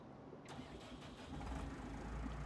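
Tractor engine in Farming Simulator 19 cranks and catches, then settles into a steady mid-pitched idle that swells slightly louder toward the end, with no talk over it.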